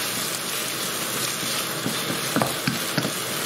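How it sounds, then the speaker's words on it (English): Chicken madras curry frying in a pan, a steady close sizzle with a few soft scraping knocks from stirring near the end. "Give that a stir again."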